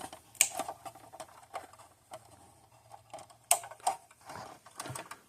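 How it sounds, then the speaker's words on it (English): Fence wire being cut with hand cutters while an old battery-powered fence charger is repaired. Two crisp metallic snips stand out among quiet, close clicking and handling sounds. "Okay, that's our fence wire. I'm going to snip it way back here."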